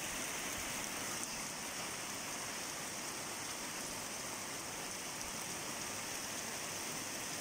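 Steady rain falling during a thunderstorm, a dense, even hiss of drops without change in level throughout, faint and distant, with no thunder cracks evident and no voices.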